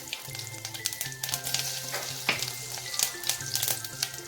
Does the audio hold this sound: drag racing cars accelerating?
no